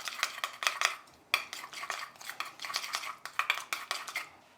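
Strawberries with vinegar, salt and black pepper being stirred in a bowl, a quick series of light clinking, scraping utensil strokes, close and fairly quiet.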